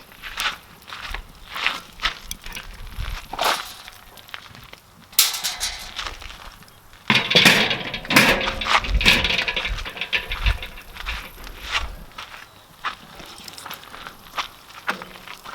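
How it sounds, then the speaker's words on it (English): Metal grates set down onto a charcoal grill, clanking and scraping close by in irregular bursts, with a longer rattling stretch in the middle. "we'll throw the grates on here"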